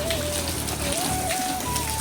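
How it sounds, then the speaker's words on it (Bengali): Artificial rain sprayed from a pipe at midnight in a village yard pours down in a steady, dense hiss that never lets up, with a thin whistling tone drifting through it. "আমরা পাইপের মাধ্যমে মনে করেন বৃষ্টি বানাইছিলাম"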